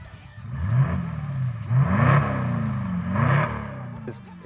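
Deep, throaty exhaust rumble from a 2020 Toyota Land Cruiser 200 Series VX with a full Legendex exhaust, rising and falling in two or three rev surges close up, with speech over the top.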